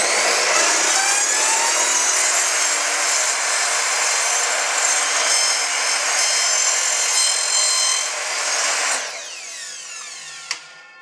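A piece of wooden plank being cut with a power saw for small parts, a loud steady whine with the pitch shifting as the blade works through, then winding down near the end with a brief knock.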